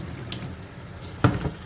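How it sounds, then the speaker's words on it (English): Tap water runs steadily into a sink while oxtail is rinsed, with a soft splashing hiss and a sharper splash of water near the end, no voices. "I'm gonna give it one more good rinse."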